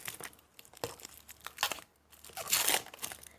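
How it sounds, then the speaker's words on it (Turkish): Packing tape is torn off a gift package sent from abroad. Close, crinkly tearing and rustling come in several quick bursts, with the loudest rip near the end and no voices. "Bu bantını sökelim sizinle beraber."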